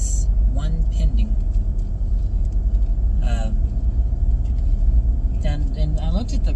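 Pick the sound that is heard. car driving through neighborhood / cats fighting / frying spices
car driving through neighborhood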